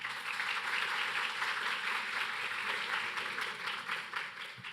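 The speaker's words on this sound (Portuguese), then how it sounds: "Uma salva de palmas, por gentileza." An audience at a São Paulo panel event applauds steadily, a continuous wash of clapping that holds at an even level for several seconds before tapering slightly at the end.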